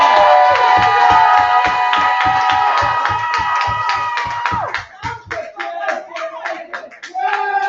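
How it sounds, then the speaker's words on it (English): Loud, rhythmic unison clapping and cheering from a crowd at a poetry slam, sharp regular hand claps with voices shouting over them, then the beat breaks into looser, scattered clapping and calls toward the end. "Keep that round of applause going for Scorpio fire."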